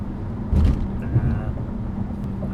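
A 1999 Mercedes S600 with a new aftermarket exhaust cruising gently, giving a steady, low, mellow engine drone with a brief swell in the middle and no sharp revving.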